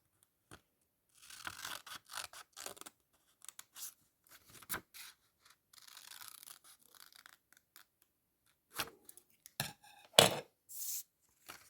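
Intermittent snipping and rustling of scissors cutting paper, close by, in short bursts separated by quiet pauses, with a few sharper clicks near the end.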